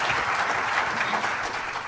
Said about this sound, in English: give Chris a big round of applause first